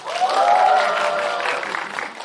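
A cinema audience at a film's stage greeting claps briefly, with a voice or cheer riding over the short burst of applause.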